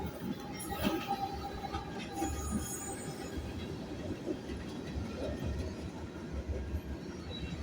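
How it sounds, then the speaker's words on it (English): A train rumbles steadily past at close range, with loud low-end roar, wheel squeals and metallic clatter throughout, near Rocky Mount. "I'm down here by Rocky Mount watching a train."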